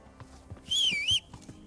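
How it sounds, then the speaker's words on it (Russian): A person whistles to call a horse in Kingdom Come: Deliverance, giving a single short, bright whistle that rises and falls over about half a second, with faint knocks and low background sound around it. "А все, хватит свистеть."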